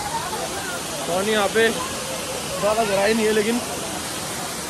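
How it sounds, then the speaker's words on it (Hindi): Neel waterfall in Rishikesh pours in a steady, broad rushing hiss that never lets up, while someone talks over the roar. "आप देख सकते हैं ये है नील वाटरफॉल"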